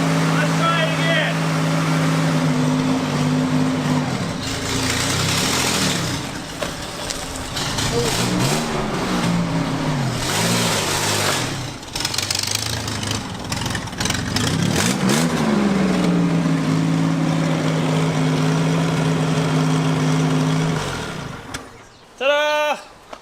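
A barn-find Chevrolet Corvair engine runs after a carburetor fuel fix, idling loudly and steadily with a few revs rising and falling, close by, before cutting off near the end as people talk.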